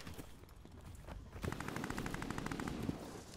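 Lienna 57 light machine gun firing in Call of Duty: Vanguard, a sustained rapid burst of automatic shots after a quieter opening, steady and fairly close under game ambience.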